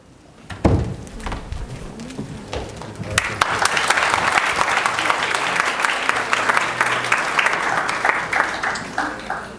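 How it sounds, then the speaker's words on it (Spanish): Audience applause at a conference on international consumer protection, starting with a few scattered claps and swelling into a full, sustained round of clapping that carries on to the end. "Vamos a despedir con un fuerte aplauso a Bernardo"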